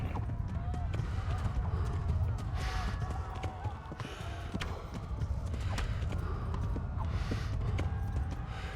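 Horse hooves clip-clop steadily in the medieval game Kingdom Come: Deliverance, a continuous trotting patter under a dense bed of game ambience, with speech over it.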